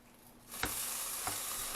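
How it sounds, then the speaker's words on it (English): Doritos chips sizzle in a skillet, a quiet hiss that rises suddenly about a third of the way in and holds steady, broken by two sharp stirring clicks against the pan. "that sizzling means some of this little stuff is getting in there"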